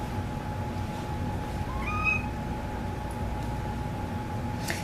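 A single short cat meow rises and falls midway through, against a quiet steady hum with faint background noise.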